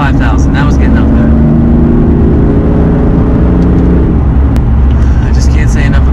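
Engine of a 2015 BMW M3 while driving, a loud, steady drone that settles after a few seconds, with a faint voice talking beneath it.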